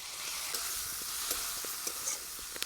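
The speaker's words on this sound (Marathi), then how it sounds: "टोमॅटो पण चांगला परतून घ्यायचंय." Chopped tomatoes sautéing in a pan for ghol bhaji: a continuous soft, hissing sizzle with scattered light ticks of stirring, quiet and close.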